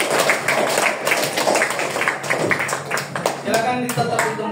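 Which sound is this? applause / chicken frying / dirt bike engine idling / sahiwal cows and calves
applause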